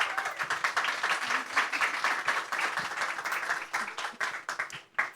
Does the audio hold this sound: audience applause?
yes